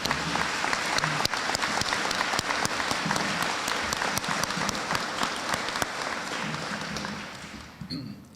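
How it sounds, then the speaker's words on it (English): A large crowd at a school Veterans Day program claps steadily and loudly for several seconds, the applause tapering slightly toward the end. "give us a round of applause for our students and teachers and their staff"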